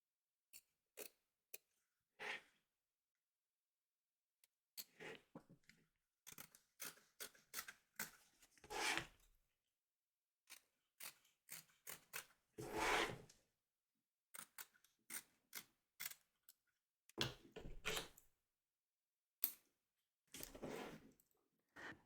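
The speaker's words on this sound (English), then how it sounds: "Trim away the excess batting from around the edge of the stitch line" Scissors trim excess batting from around the stitch line of a machine-embroidered Halloween kitty, giving close, quiet bursts of crisp snips and clicks in irregular clusters separated by silent pauses.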